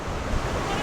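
Ocean surf at a beach where people are watching surfers: a dense, steady wash of breaking water mixed with gusty wind buffeting the microphone, loud and continuous with no clear individual wave.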